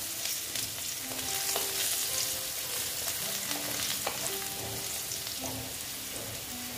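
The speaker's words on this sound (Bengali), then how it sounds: "দেখো আলুগুলো প্রায় মোটামুটি ভাজা হয়ে এসছে।" Potatoes fry in a pan with a little turmeric for a radish ghonto, giving a steady hiss and crackle. Scattered clinks and scrapes of stirring break through the sizzle now and then, and no one speaks.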